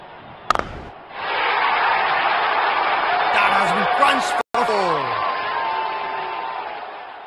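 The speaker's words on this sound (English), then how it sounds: "Crowd senses a flurry of boundary here. They are making some serious noise." A stadium crowd roars and cheers in the cricket video game Real Cricket 19, a loud sustained wall of noise after a sharp bang, briefly cutting out near the end, with whistles and a commentator speaking over it.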